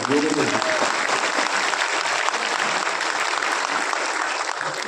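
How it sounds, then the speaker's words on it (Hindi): Loud, dense applause from a crowd at a political gathering in India, steady clapping filling the whole stretch with a brief voice at the very start. "तो मेरे को इनवाइट करने के लिए पहले तो योगेंद्र चांदोलिया जी के लिए जोरदार ताली बजाओ।"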